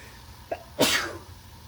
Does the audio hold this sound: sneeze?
yes